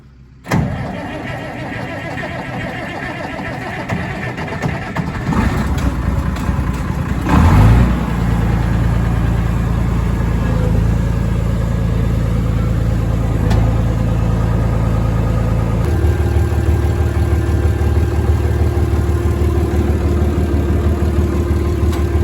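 A tractor engine on a hay farm is cranked and catches, then settles into a loud, steady idle close by with a heavy low drone and no talk.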